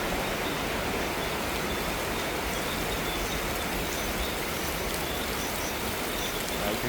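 Heavy rain during the rainy season in Central Forest Park, Bangkok, Thailand, a dense, steady hiss of downpour on surfaces, loud and continuous throughout with no voices.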